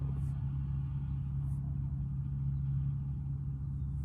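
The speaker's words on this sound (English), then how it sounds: "and then car noises to my right" A steady low hum of road traffic and engines drones on continuously, moderately loud, with a couple of faint higher sounds on top.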